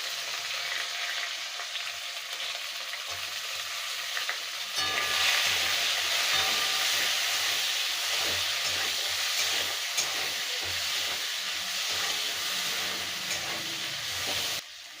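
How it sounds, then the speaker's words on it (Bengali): A large finely chopped onion drops into hot oil with whole garam masala spices and white cumin seeds, setting off a sudden loud, steady sizzle that keeps going, close and unbroken, after a quieter opening. "পেঁয়াজটা আমি ভাজবো"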